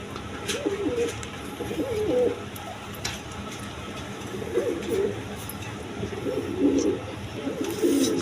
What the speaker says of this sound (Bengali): দর্শকবৃন্দ এখানে আরেক পেয়ার কবুতর আছে, বন্টিনেট কবুতর